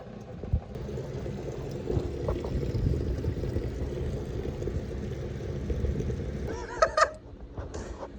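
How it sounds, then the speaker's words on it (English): Water pours steadily into a hollow metal fuel tank of a Z/28 Camaro, flushing it out, with a gurgling, sloshing rush, then a couple of squeaky clanks near the end. "Putting some water in there to flush it out"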